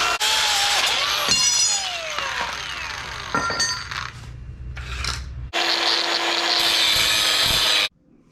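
Sawing a wedge into the end of a wooden stake to sharpen it for a swivel campfire grill: close, steady rasping strokes that stop briefly, then one long continuous run before cutting off.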